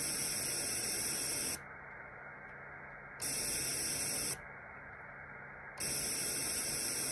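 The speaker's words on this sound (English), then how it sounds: "we have a band pass filter with pass band of 1 kHz to 4 kHz" Broadband hiss and noise passed through an FPGA FIR band-pass filter, switching on and off in alternating sections, with the upper treble cut away during the filtered stretches and returning when the filter is off.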